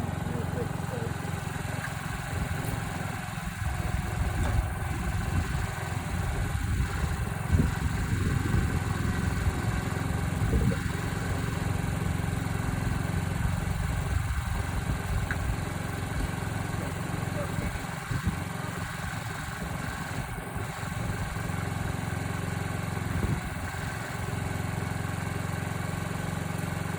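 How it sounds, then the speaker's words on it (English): Honda Ruckus scooter engine running at a steady idle, a low continuous putter throughout with faint handling noises and a voice speaking. "I'm going to start it up"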